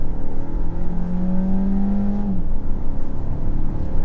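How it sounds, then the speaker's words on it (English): A BMW X1 xDrive23i engine revs up after a downshift, its pitch climbing steadily for a couple of seconds before the rise breaks off into a rougher, lower drone, loud and close with no speech. "Just drop down a gear now and you can hear the engine revving a little bit more highly"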